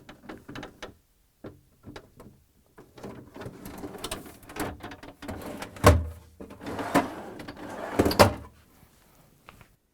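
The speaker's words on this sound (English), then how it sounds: "So the door goes back on." An LG/Kenmore refrigerator door being hooked back onto its hinges and lowered into place makes a series of irregular clunks, scrapes and metallic knocks up close, with two heavier thuds, no talk.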